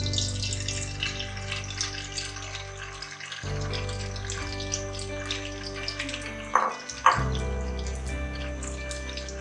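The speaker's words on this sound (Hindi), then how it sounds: "अब हम पैन में घी डालेंगे।" Ghee pours into a pan with a steady, liquid trickling sound, broken by a brief pause and a couple of splashy bumps near the end. It is quiet and close, with no talking.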